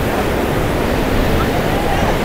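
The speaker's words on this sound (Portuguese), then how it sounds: "Tá ventando bastante hoje." Strong wind buffets the microphone at Ponta Negra beach in Natal, a loud, constant roaring hiss blended with crashing surf and no pauses.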